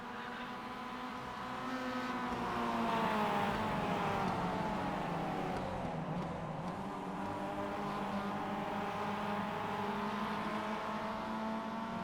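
Mazda MX-5 race cars lapping Summit Point Raceway in the iRacing sim, a steady layered engine drone whose pitch rises and falls as the cars run close together, with no voices.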